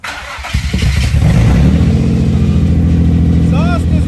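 A Nissan 350Z engine cranks and fires up, then settles into a loud, steady idle with a deep, rumbling exhaust that stays close and constant.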